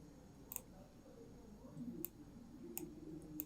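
Faint mouse clicks sound four times, spaced about a second apart, each a sharp tick over a quiet room hum.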